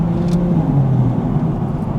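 A Toyota GR Supra fitted with a titanium exhaust cruises at night, a steady droning engine and exhaust note heard from inside the car, moderately loud and continuous without talk.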